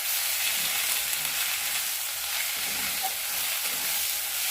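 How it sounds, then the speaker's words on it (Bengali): Ginger and cumin paste masala fries steadily in hot oil for prawn malai curry, a constant close sizzle and crackle with no talking. "এবার আদা বাটা আর জিরে বাটা একসাথেই পেস্ট করে নেওয়া হয়েছে, দিয়ে মশলাটা একটু ভালো করে কষিয়ে নেবে"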